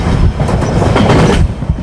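A loud, close train rumbles by with dense, steady clattering of wheels on track, a constant roar throughout with no voices.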